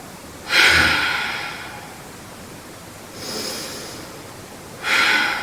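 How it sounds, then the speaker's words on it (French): Three deep yoga breaths drawn through the nose and let out slowly, each a soft, airy whoosh lasting about a second, close and fairly loud, with quiet gaps in between and no talking. "On inspire. On expire profondément."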